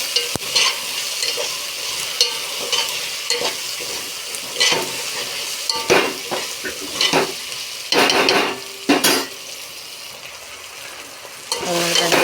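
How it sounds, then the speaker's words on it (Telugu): Okra (ladies' finger) frying in a pan, stirred repeatedly, gives a loud close sizzle with bursts of scraping and clattering spoon strokes, and no one speaks. "బెండకాయలు కలుపుతున్నాను."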